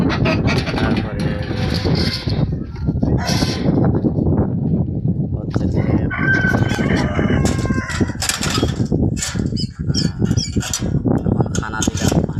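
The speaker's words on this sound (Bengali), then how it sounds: "এখানে আছে আমাদের পাকিস্তানি মুরগি আছে, মোরগ আছে, তারপরে আমাদের দেশি মোরগ আছে" Pakistani and local desi roosters and hens in a backyard coop, several loud nearby crows over busy clucking and cackling, with a person talking throughout.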